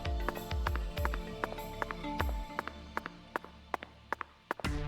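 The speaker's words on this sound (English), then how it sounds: "the footstep noise is really comforting" Footsteps from the video game Deadly Premonition 2, a steady run of sharp, distinct steps over a game music bed, growing more spaced and prominent toward the end.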